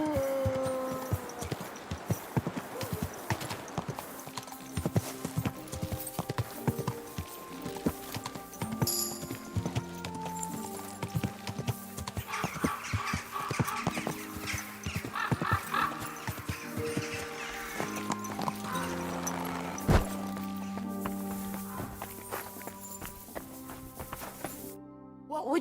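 Horse hooves clip-clop in the medieval game Kingdom Come Deliverance II, uneven steps mixed with a brief whinny over background game music, at a moderate level with some talk.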